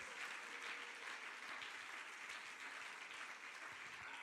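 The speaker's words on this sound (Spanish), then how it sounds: "Dele el aplauso al Señor Jesús." A church congregation gives a sustained round of applause, a steady mass of clapping heard quietly at a distance.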